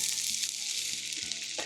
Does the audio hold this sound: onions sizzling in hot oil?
yes